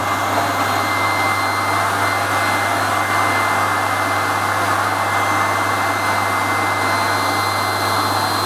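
Air blower running during a physics lab experiment with a rotary, a constant loud broadband whoosh with a steady low hum underneath, unchanging from start to end with no voices.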